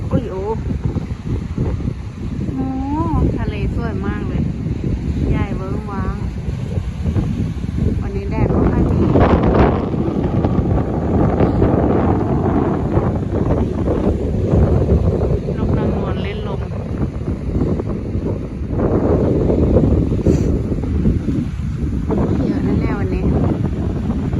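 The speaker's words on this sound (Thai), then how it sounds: "เสียงลมดังนะแต่เสียงพูดน่าจะเบาอยู่จ้ะ" Strong wind buffets the microphone on a beach at Prerow on Germany's northern coast, a steady loud roar with gusts throughout, while a person talks over it.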